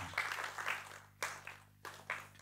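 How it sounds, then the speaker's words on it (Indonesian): Audience applause at an Indonesian Christian talk, heard as several short bursts of clapping that swell and fade over a steady low hum. "Tepuk tangan buat Tuhan."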